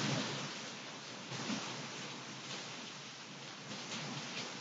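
Heavy hurricane rain from a Hurricane Irma rain band pours down in Palatka, Florida, a dense, continuous wash of downpour at moderate level with no talk.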